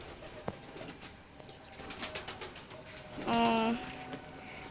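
Pigeons on a pigeon farm: a brief flutter of wingbeats and soft scattered coos close by, with a short louder tonal call near the middle over quiet background.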